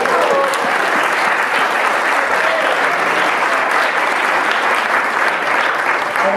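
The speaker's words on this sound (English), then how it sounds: "I want a round of applause for all of you who did that." A large crowd at a harvest dinner applauds steadily and loudly, a dense wash of clapping that holds at an even level throughout with no voices standing out.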